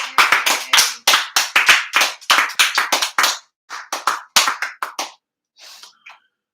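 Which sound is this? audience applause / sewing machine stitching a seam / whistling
audience applause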